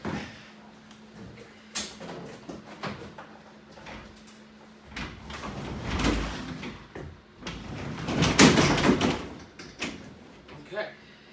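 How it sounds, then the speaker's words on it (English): A shop door is opened while a Honda push mower sits inside, with clunks, rattles and a scraping slide building to louder bursts near the end, a steady hum underneath and some talking. "So let's open up that door a minute and get it out."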